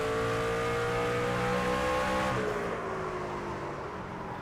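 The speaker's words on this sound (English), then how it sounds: "We're full throttle now." Craftsman truck engine at full throttle in NASCAR 25 at Martinsville, a loud, steady high-revving drone with a pitch shift midway as the truck powers off the corner, no talk.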